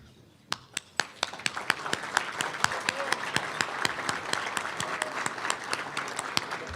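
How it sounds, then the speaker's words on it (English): A roomful of attendees at an annual meeting applauds the board of directors, starting with a few isolated claps that build into steady, dense clapping sustained throughout. "please stand so we can give them a round of applause"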